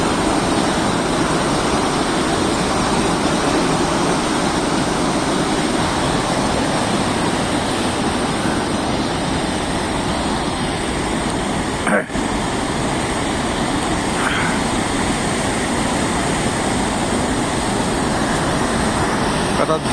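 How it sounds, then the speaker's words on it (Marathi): Rhine Falls on the Rhine river gives a powerful, unbroken roar of rushing water that stays loud and steady throughout. "आता जोरदार प्रपात आहे बघा"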